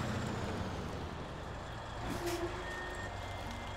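A CAT 745 truck reversing in the video game SnowRunner: a steady low engine drone with a short high reversing beep near the end, fairly quiet.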